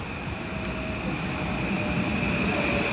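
Riding aboard a train: a continuous loud rumble of the rail car with faint high whining tones and wheel noise, steady throughout and with no voices.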